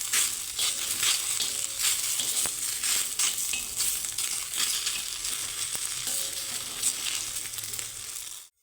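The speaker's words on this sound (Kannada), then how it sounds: "ಎರಡು ಸೈಡು ಚೆನ್ನಾಗಿ ಹುರಿಯೋ ತನಕ ಇದನ್ನು ಎಣ್ಣೆಲೇ ಫ್ರೈ ಮಾಡ್ಕೋಬೇಕು." Vegetable pieces fry in oil, a steady crackling sizzle that runs unbroken for several seconds at moderate level, with occasional faint stirring taps, then cuts off abruptly.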